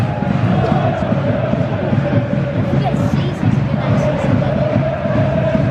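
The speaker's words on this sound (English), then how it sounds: "the only noise you can hear right now is Crew fans making noise" Crewe football fans chant and shout in a stadium during an away game at Stockport County, a steady roaring crowd din with sustained singing tones and scattered cheers throughout.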